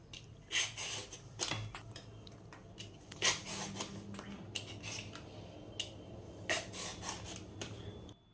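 A knife scrapes the skin off a bottle gourd in a home kitchen, giving close, quiet rasping strokes in an uneven rhythm with brief pauses. No one speaks.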